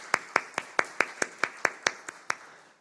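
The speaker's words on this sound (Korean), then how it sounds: "빨리 회복될 수 있도록 우리 축복의 박수하겠습니다." Church congregation at a Korean worship service claps in unison for a blessing, about eleven crisp claps in an even, quick rhythm, close and fairly quiet.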